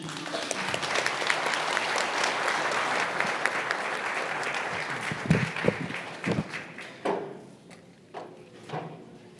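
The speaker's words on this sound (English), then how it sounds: "Big round of applause for Steve." An audience at a startup pitch event claps in dense, steady applause that thins and trails off into a few scattered claps and shuffling at the end.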